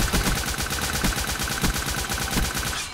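Rapid automatic gunfire from a first-person shooter video game, a dense, steady burst of loud shots repeating for about three seconds and then cutting off abruptly.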